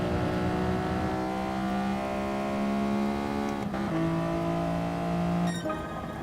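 Racing car engine in the video game Fugu FrenZy, a steady, loud droning whine that shifts pitch with a couple of quick gear changes, with no one speaking.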